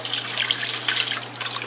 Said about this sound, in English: throw that water out of there